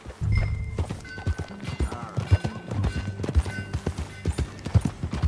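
Horse hooves clop and pound in a quick, uneven gallop, close and loud, with a whinny breaking through, in the Western video game Red Dead Redemption 2.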